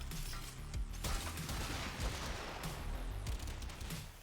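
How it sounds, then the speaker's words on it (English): Dense, continuous crackling bursts and booms from rainbow firework effects of a Lunar Renewal weapon skin firing in Warframe, a loud steady barrage with no talk. "What's causing the rainbow fireworks?"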